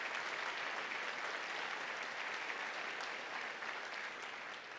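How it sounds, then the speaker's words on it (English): Sustained, dense applause from a large audience at a college convocation ceremony fills the hall, a steady roar of many hands clapping at even loudness throughout, with no voices over it. "And I think that deserves a huge round of applause."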